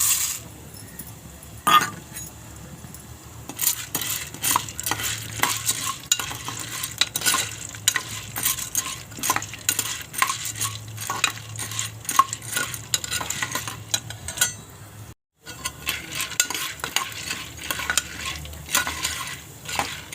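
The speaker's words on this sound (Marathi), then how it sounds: "तेल चांगलं गरम झालं आहे आता ही अर्धी वाटी मका टाकते" Half a bowl of corn kernels stirred in hot oil inside a heated pressure cooker for popcorn, with a continuous sizzle and a steady scrape and clink of a spoon against metal close by.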